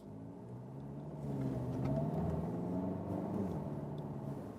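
A Volkswagen Tiguan diesel engine rumbles low and steady, then swells as the SUV pulls away from a standstill in Berlin traffic and accelerates smoothly, fairly quiet and muffled as if heard from inside.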